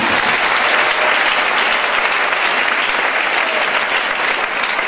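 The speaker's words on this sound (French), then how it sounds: "Acclame Jésus si tu me suis" A church congregation bursts into dense, sustained applause and cheering, loud and close, a continuous wash of clapping that holds steady for the whole stretch with only faint voices mixed in.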